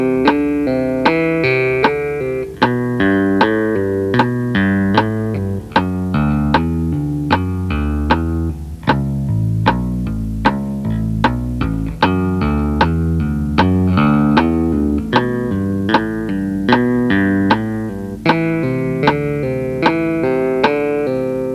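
Guitar pull-off exercise played with right and left hands: a steady, rhythmic run of clear, bright notes picked and pulled off in repeating patterns, close and loud, with no talking.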